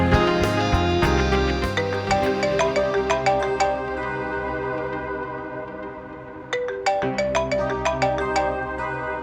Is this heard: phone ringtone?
yes